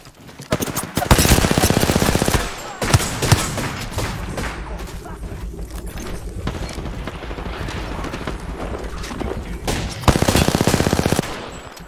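Rapid automatic gunfire in Apex Legends rattles in dense bursts, loudest near the start and again toward the end, with sustained firing and impacts in between.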